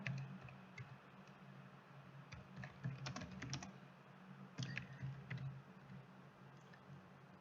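Quiet, close keystrokes on a computer keyboard while C code is typed, in irregular bursts of clicks with short pauses between them and no voices.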